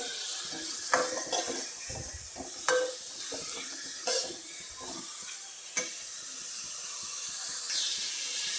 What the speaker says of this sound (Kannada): ಈರುಳ್ಳಿ, ಟೊಮೊಟೊ ಒಗ್ಗರಣೆ ಹಾಕ್ಕೊಂಡಿದ್ದೀನಿ ನಾನು